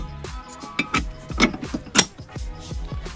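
Metal screws being fitted by hand while mounting the arm of an aftermarket car tow hitch, a series of close, light clicks, scrapes and metallic taps at irregular intervals, with no talking.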